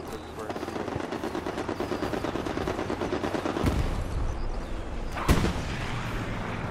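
Sustained machine gun fire in Hell Let Loose, a rapid steady stream of shots with heavier reports and a sharp nearby blast, continuous over battlefield ambience with faint talk.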